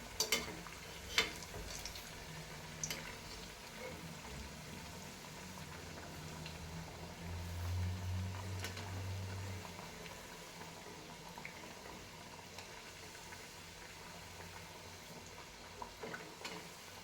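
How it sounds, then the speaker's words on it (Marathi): Chana dal vadas frying in oil on medium heat, a faint steady bubbling sizzle that runs throughout with a few sharp clinks near the start, no talking. "आता ह्याला मीडियम गॅसवर चांगलं फ्राय करून घेऊया"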